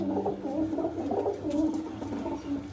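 Pigeons coo repeatedly close by, soft low rolling calls overlapping in an uneven rhythm with no voices present.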